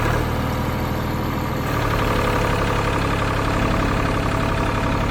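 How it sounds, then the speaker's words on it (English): An old Ford tractor engine runs loud and close, its rough idle lifting into a heavier, steadier roar as the throttle opens partway through. "the whole tractor's shaking, and you can hear it going"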